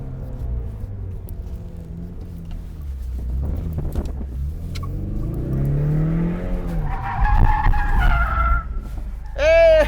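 A 2024 Ford Mustang EcoBoost runs an autocross course with loud engine drone rising and falling, then sharp tire squeals as it skids through the pylons near the end.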